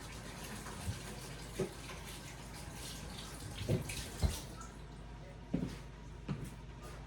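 Kitchen tap running steadily while hands are washed at the sink, a continuous close water hiss broken by scattered splashes and small knocks, no voices over it.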